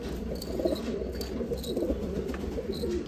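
Imported UAE pigeons coo steadily in a loft at Nashik Road, low throaty calls repeating close by, with a few brief higher chirps and soft background noise but no talking.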